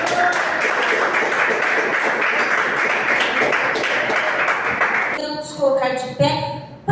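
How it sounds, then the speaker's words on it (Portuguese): A church congregation at a Portuguese-language evangelical service claps steadily and joyfully, a dense continuous wash of applause that thins into a few separate claps near the end, with singing or music rising briefly. "as palmas bem alegres para Jesus"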